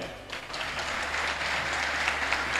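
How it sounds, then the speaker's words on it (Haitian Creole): Applause from a political gathering crowd for Dominican economy minister Issa Pavel, a steady wash of many hands clapping that swells after a brief quieter start and holds loud and dense to the end. "battons bravo pour Issa Pavel"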